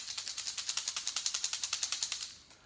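An AliExpress copy of a Pachinko fishing lure rattles in a quick, steady series of about twenty bright, sharp clicks. The sound is faint and close, with no talk.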